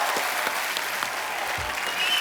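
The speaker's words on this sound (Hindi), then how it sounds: "जोरदार तालियां बनती हैं और जोरदार" A studio audience on a television comedy and music show applauds to welcome a singer, producing a continuous, even wash of clapping that fills the whole moment.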